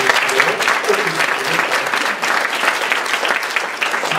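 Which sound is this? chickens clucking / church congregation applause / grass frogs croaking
church congregation applause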